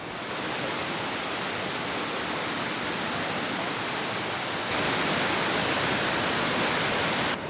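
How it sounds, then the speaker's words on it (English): A small waterfall at a natural swimming spot roars with a steady, dense hiss of falling water, heard close up and slightly louder toward the end, with no voices. "we can get quite close to the waterfall, but yeah, it's tiny"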